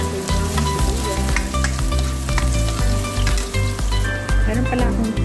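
Onions hitting hot oil and stir-fried for pancit noodles: a loud, dense crackling sizzle right up close, with frequent spatula scrapes and knocks against the pan throughout.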